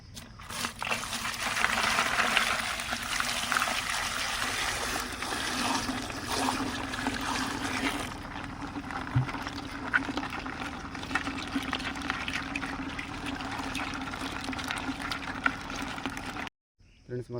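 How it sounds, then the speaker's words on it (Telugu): Hot water is poured into a pot of crabs, giving a continuous splashing, gurgling flow that is loudest early on and then settles into a steadier trickle, with faint talk in the background. "ఇప్పుడైతే వేడి వాటర్ పోస్తున్నాను."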